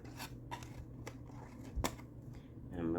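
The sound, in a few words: cutting paper along a rectangle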